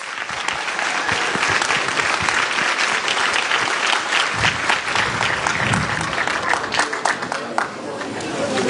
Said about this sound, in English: So please give him a round of applause, please